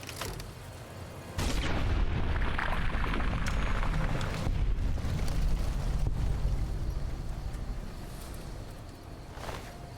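Sandstorm wind in the video game Fallout: New Vegas, a dense roaring rush that surges in after a quieter opening and stays loud and steady, with occasional gusty swells and rumbling low end.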